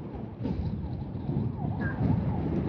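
An ambulance siren wails beneath loud wind buffeting and traffic rumble, its rising and falling tone faint but steady throughout.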